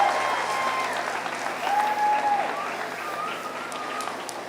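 Applause for a champion junior showman at a 4-H meat goat show in Allen County, a steady broadband crowd clapping that holds throughout, with a whistle-like tone and faint voices mixed in.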